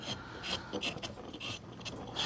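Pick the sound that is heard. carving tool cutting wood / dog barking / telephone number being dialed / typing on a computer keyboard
carving tool cutting wood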